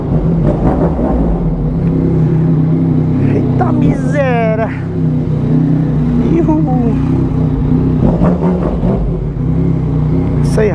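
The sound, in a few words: Yamaha MT-09 motorcycle with Jeskap exhaust revving on dynamometer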